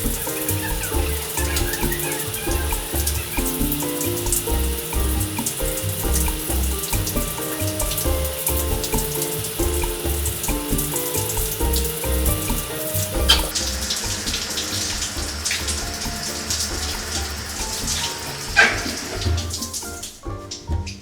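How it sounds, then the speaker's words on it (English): Shower water sprays steadily onto a waterproof winter work jacket for about twenty seconds, a loud continuous splashing hiss that stops abruptly at the end. "I'm going to stand under the shower for a minute"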